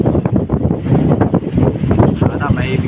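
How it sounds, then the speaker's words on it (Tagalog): Strong wind at sea on the Pacific buffeting the microphone with gusty rumbling, mixed with a voice talking over it and the churn of water nearby. "malakas ang hangin"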